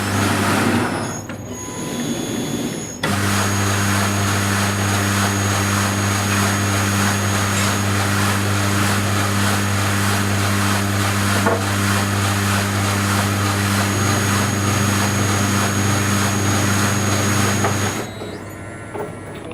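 A Rollmatic Eurolabo pastry sheeter starts up and runs with a steady electric motor hum and whine for about fifteen seconds, then stops, heard close with no talking.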